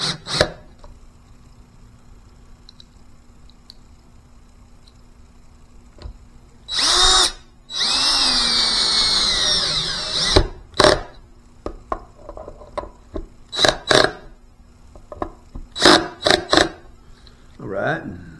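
A clutch-equipped power drill drives neck screws into a Telecaster-style electric guitar in several short whirring bursts, one longer run mid-way, with a person talking between them.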